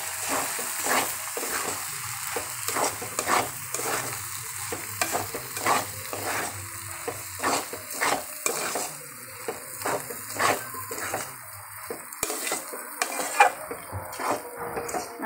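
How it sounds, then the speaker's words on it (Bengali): Pasta is stirred in a sizzling pan, with repeated scraping and tapping strokes of a utensil in an uneven rhythm over a low, continuous frying hiss, close and without talk. "এবার আমরা কিছুক্ষণ নাড়াচাড়া করে পাস্তাটা নামিয়ে নিব"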